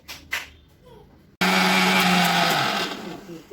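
After a brief quiet moment with a couple of clicks, a blender making chocolate juice suddenly whirs to life, its motor grinding loudly and steadily up close.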